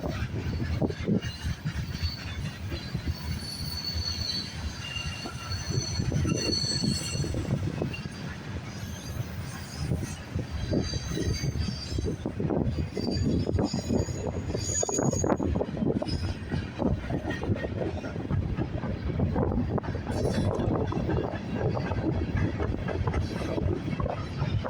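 Long freight train of auto racks and general freight rumbling past in Fremont, Nebraska, a steady loud roll of wheels and wagons with squealing and clanking throughout, close and continuous.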